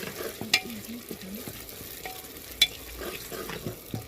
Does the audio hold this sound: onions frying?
yes